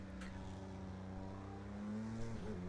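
A 2016 Audi LMP1 diesel race car engine in Project Cars 2, racing at Le Mans at night, drones steadily with a strong harmonic whine, then dips briefly in pitch near the end as the gear changes.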